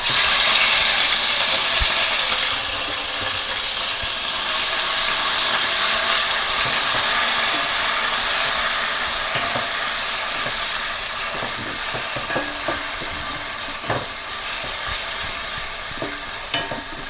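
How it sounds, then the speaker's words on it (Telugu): A ground paste of onion, ginger, garlic, coriander and cumin fries loudly in a pan for fish curry, a steady close hiss and sizzle with stirring scrapes and crackles toward the end. "ఇదిగోండి అది పచ్చివాసన పోయేదాకా వేయించుకోవాలి"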